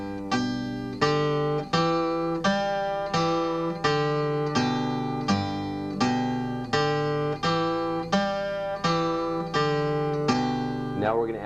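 Acoustic blues guitar plays a boogie bass line with the first string pinched along with it, a steady looping pattern of about a dozen even, ringing plucked beats, close and clear with no voice.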